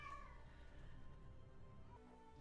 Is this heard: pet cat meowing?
yes